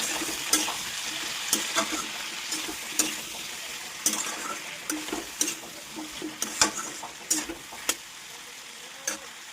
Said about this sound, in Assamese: চব্জিখিনি ধুনীয়াকৈ ভাজি আছোঁ